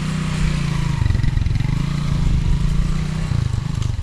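A motorcycle engine runs close by, with a low, steady putter and sputter that swells slightly as the bike pulls away, loud and continuous without talk.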